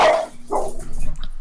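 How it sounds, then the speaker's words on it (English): A dog gives a couple of short, sharp barks, close and moderately loud, with a brief yelp-like burst at the start and a second bark following. "What a dog."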